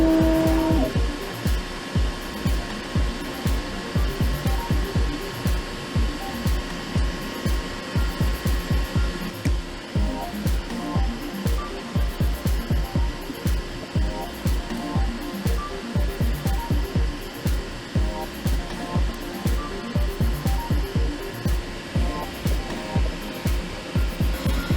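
EIBOS Easdry filament dryer, set near 40 degrees for drying 3D-printer filament, gives a steady airy whir with a continuous rapid ticking pulse running throughout at moderate level, no voices.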